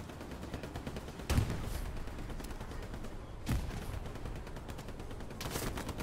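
Gunfire from the Hell Let Loose World War II shooter, with two sharp nearby shot bursts among a steady wash of distant battlefield firing, suppressing fire coming in around the player.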